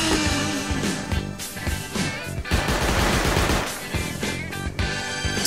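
Loud, rapid automatic fire from an automated turret in the video game Rust, continuous chattering bursts close by with no talking over it.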